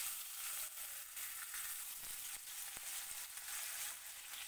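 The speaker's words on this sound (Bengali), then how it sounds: "মাছগুলোকে একে একে দিয়ে আমি এখান থেকে ভেজে নিচ্ছি।" Fish frying one piece at a time in salted oil, a constant soft sizzle and crackle with a few faint clicks and spits, heard alone at low volume.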